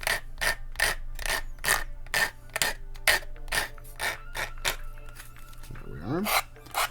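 A plastic model part of a 1:1000 scale Polar Lights USS Defiant kit is rubbed on sandpaper in a run of about fifteen short, regular rasping strokes, close and fairly quiet, ending with a brief scrape.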